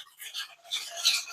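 A spoon scrapes and swirls sugar around a bowl to dissolve it, giving a few short, faint gritty rasps close by.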